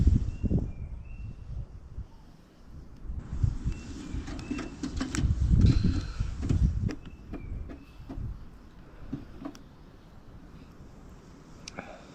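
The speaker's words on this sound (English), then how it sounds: "There's that bird again." A bird calls faintly outdoors on a cold, near-freezing day by a campervan near Tobermory, Ontario, giving a few thin, scattered chirps over low rustling and wind-like background noise.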